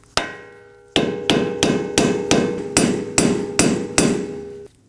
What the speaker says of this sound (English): So put it in place on the cutout on the axle shaft and hammer it in.